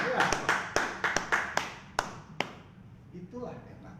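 Scattered, irregular hand claps at a pharmaceutical nutraceutical business seminar, about a dozen sharp slaps over a few seconds that thin out, followed by faint talking.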